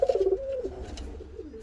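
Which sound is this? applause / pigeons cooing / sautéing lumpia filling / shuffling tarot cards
pigeons cooing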